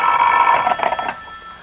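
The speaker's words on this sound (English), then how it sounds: "The telephone sounded like it was ringing miles away." A telephone bell rings in a 1945 noir radio drama, one brief metallic trilling burst that cuts off sharply, sounding thin and far away.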